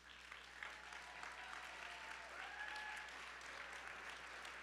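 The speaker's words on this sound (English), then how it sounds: "please stand up and get a round of applause for them" A crowd at a grand opening applauds steadily throughout, a dense, even wash of clapping heard from within the room, with a faint murmur of voices beneath.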